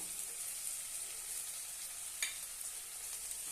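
Ground peanut and garlic paste fries in a pan for a crispy papad chutney, giving a steady, soft sizzle with a single light clink partway through.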